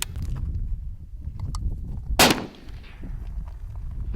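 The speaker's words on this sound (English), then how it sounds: "Now if you pull the trigger, It goes bang." A single sharp gunshot from a scoped rifle outdoors, loud and close, with a sharp crack and a short decaying echo, amid rustling background noise.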